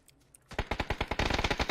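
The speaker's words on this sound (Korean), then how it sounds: "총소리 난다." Rapid bursts of gunfire in the video game PlayerUnknown's Battlegrounds, a steady automatic rattle of sharp shots that starts abruptly after a short quiet lead-in and grows denser.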